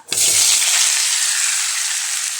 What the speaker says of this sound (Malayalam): ഈ സമയത്ത് നമുക്ക് വെളിച്ചെണ്ണ ഒഴിച്ചു കൊടുക്കാം. ഈ അരിഞ്ഞ് വെച്ചേക്കുന്ന പഴുത്ത മാങ്ങയെല്ലാം ഇട്ട് കൊടുക്കാം.